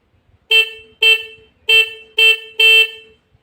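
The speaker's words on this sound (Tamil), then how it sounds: "இப்போ வந்து இதில் ஹாரன் வந்து அடித்து காட்டுற பாருங்க" Five loud, close honks from a melody-maker horn fitted to a Bajaj Pulsar 125 BS6 motorbike, each short blast sounding a bright harmonic tone with brief gaps between them.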